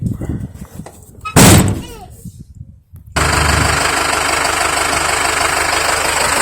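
A Cummins 4BT diesel engine in a Nissan D22 Navara cranks with a short burst, then catches and settles into a loud, steady, rattling, tractor-like idle close by, with brief muffled sounds before.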